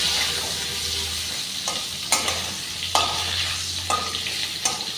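Potato pieces frying in hot oil in a pan, giving a continuous close sizzle. Sharp spatula scrapes and clinks land every second or so, with a low steady hum underneath.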